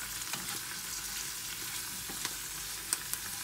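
A spinach tortilla egg mixture fries steadily in generous oil, with a close continuous sizzle and a few faint pops and stirring clicks.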